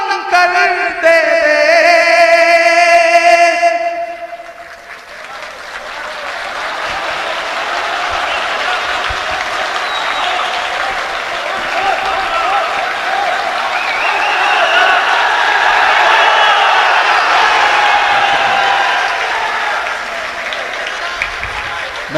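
Audience at a poetry recital applauding, a large crowd clapping in a broad continuous wash that swells and holds for many seconds, after a brief stretch of sung or chanted voice at the start.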